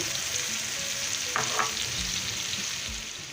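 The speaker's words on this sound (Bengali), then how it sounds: "মশলাটা দিয়ে আমি একটু ভালো করে কষিয়ে নেব" Beef tripe pieces frying and being stirred with spice paste in a pan, giving a steady close sizzle with a couple of brief scraping stir sounds, no voices.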